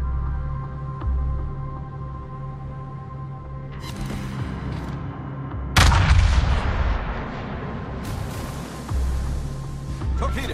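Naval gunfire from warships in World of Warships, including the battleship Yamato: heavy booming salvos over a low engine hum, with one especially loud blast near the middle and rumbling aftermath.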